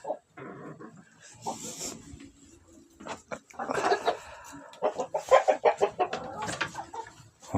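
Hens clucking inside a snowbound henhouse during a blizzard, with soft scattered clucks at first, then a louder run of rhythmic clucking up close and faint background rustling.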